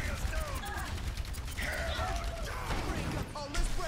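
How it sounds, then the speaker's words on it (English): Rapid bursts of gunfire in a first-person video game match, crackling continuously alongside other in-game effects and mechanical clatter at a steady, busy level. "Why am I getting shot in the back?"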